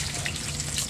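Water running steadily from a tap while dishes are washed, a brief continuous splashing hiss with no talking.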